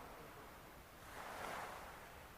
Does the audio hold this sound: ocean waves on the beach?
yes